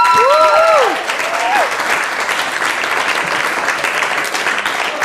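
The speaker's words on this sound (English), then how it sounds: "Round of applause." An audience claps warmly as performers are called to the stage at a live music event, with a short whistle or whoop at the start before the applause settles into a steady, sustained wash.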